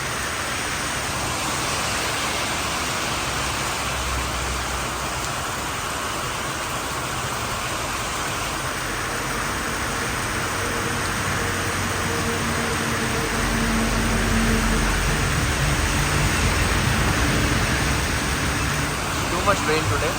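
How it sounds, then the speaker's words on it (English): Heavy rain falls steadily on a late-May road trip from Nainital to Mumbai, a dense continuous wash of noise that swells louder toward the end, with a faint voice somewhere underneath. "Too much rain today."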